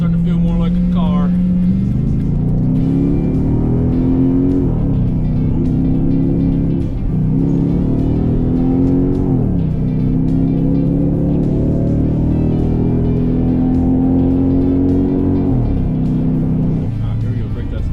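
A $2,500 budget car is driven during a brake test, its engine droning loudly and shifting through repeated rising revs and drops as it accelerates and slows.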